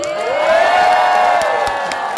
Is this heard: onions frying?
no